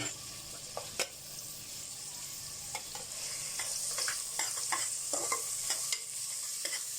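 Ginger, garlic and green chili sauté in a pan for mutton shami kabab, giving a steady sizzle with scattered scrapes and clicks of stirring throughout.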